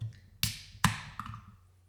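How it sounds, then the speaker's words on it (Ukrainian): A can of cloudy Odesa craft wheat beer, a German weizen-style brew at 4.5% alcohol, snaps open with two sharp metallic cracks close up, then a smaller click and a faint fizz. "Відкриваємо"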